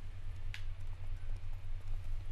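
Horse hooves clip-clop at a steady walking rhythm in The Witcher 3 video game, close and clear above a constant low droning background, with no talking.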